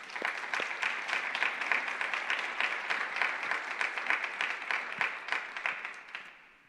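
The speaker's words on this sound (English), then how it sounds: "let's give Logan and Jessica one more great round of applause" Round of applause for Logan and Jessica, the new leaders: steady, fairly soft clapping from a group that stays even before tapering off at the end.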